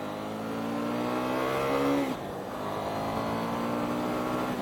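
A KTM 790 Duke motorcycle engine revs hard while riding, its pitch climbing steadily toward high RPM before a brief dip and a renewed steady drone, loud and close throughout.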